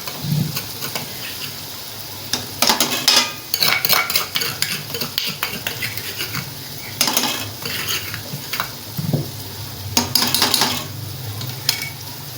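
A spoon clatters and scrapes through spiced chana pulao in a pot, stirring the masala in with irregular metallic clinks and bursts over a low, steady sizzle, loud and close with no talking.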